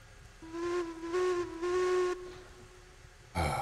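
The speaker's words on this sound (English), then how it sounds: "I hope someday we can get the responsive whistle back." Three long pulsed blasts of a steam locomotive whistle on a Heisler engine in the railroad game Railroads Online, steady in pitch and moderately loud, followed by a short burst of steam hiss, with no voices.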